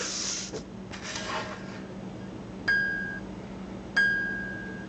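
A scroll saw blade plucked with a fingernail like a guitar string, giving two separate bright, high-pitched pings that ring and fade, after some faint handling rustle.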